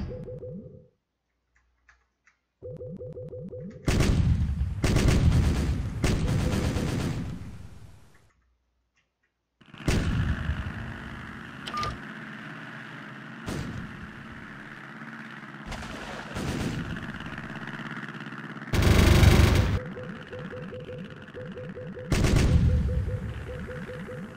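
Naval guns boom in the Navyfield warship game during a Tokyo harbour battle, with heavy bursts of gunfire and rumbling salvos over a steady game background, separated by brief silences.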